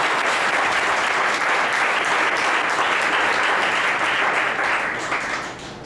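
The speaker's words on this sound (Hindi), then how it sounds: "एक जोरदार ताली प्रभु के लिए" Congregation applause during a church sermon, a full, continuous wash of many hands clapping at steady loudness for several seconds before tapering off at the end.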